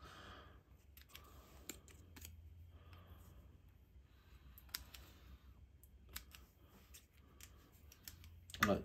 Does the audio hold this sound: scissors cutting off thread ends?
yes